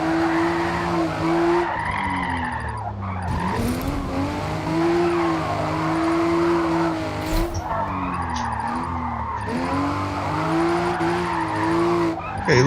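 Tires of a GR Supra A90 squeal and skid continuously while drifting sideways in third gear in Forza Motorsport, loud screeching over a revving engine with pitch rising and falling through the slides.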